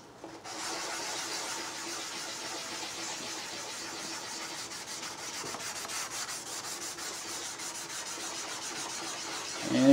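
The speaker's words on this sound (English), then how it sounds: "So you're going to wet sand this." Wet sanding a clouded 2004 Nissan headlight lens with 3000 grit sandpaper gives a steady close scratchy rubbing hiss with faint rhythmic strokes, continuous at moderate volume with no voices.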